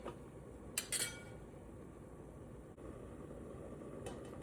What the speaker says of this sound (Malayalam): ആവി വരുമ്പോഴത്തേക്ക് നമുക്കൊന്ന് ഇളക്കി കൊടുക്കാം.